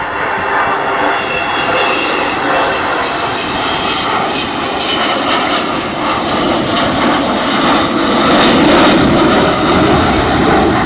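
The Avro Vulcan XH558 jet bomber roars past on a flyby at the RIAT air show, 2012, bomb doors closing, a dense, continuous rumble building slightly toward the end, with no one speaking.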